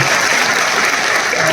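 Audience applause at an RCM business ULP seminar in Aurangabad, heard as steady, dense clapping from a large crowd that fills the short moment without a break.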